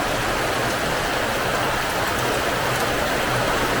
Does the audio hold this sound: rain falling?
yes